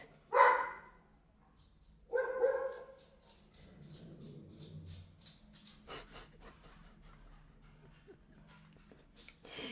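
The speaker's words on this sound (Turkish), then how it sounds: "Hem alt katıktaki köpeğin sesi geliyor hem Küba'nın sesi geliyor." A dog barks twice downstairs, muffled and somewhat distant, followed by softer whimpers and scattered light clicks.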